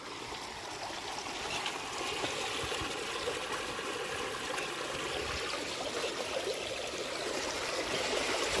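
Steady rushing flow of water pouring through a breached field embankment, continuous and close, with a trickling, splashing texture and no voices.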